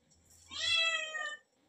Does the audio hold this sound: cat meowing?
yes